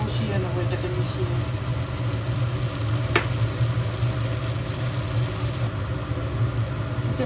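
Okra masala frying in a pan as spiced whisked yogurt is stirred in, giving a steady broad sizzle with a low hum beneath and a single sharp clink midway.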